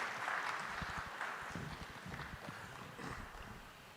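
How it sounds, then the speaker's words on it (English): Applause fills a conference hall at the 47th general assembly, a steady dense patter of many hands clapping at moderate distance for the whole stretch without a break. "Please, a round of applause for him."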